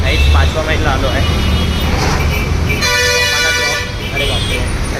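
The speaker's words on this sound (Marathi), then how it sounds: "अरे बापरे, ट्रॅफिकचा आवाज खूप जास्त आहे" Loud road traffic in Pune's Vimannagar and Yerawada area, with horns tooting repeatedly, including a long sustained blast midway, over a dense rumble of buses and cars while a person talks nearby.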